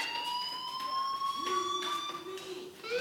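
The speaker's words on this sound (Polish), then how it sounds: "do you hear that fire alarm? That means you should be outside." A fire alarm rings steadily throughout in the video game Life is Strange: a sustained, piercing electronic tone with a slight wavering pitch, loud and continuous with no pauses.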